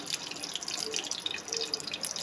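Shami kebabs fry in hot oil with a faint, steady crackle and sizzle, full of small pops and spits and no voices over it.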